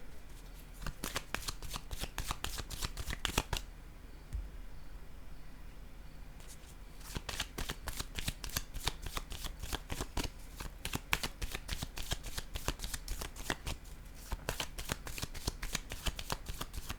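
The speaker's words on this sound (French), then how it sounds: "Je vais déposer une carte ici." Tarot cards are riffled and shuffled in quick, dense bursts of crisp flicking, with a brief pause partway before the shuffling picks up again and runs on steadily, close and alone.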